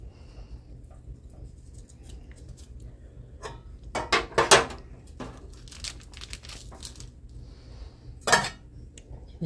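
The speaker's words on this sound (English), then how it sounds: "We set it in our little pan." Chocolate dough buns made from frozen dough being set into a baking pan: scattered soft knocks and scrapes of metal pan and utensils, with a couple of louder clattering bursts, close by and without speech.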